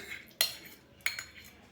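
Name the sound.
mixing spices with cream and yogurt in a bowl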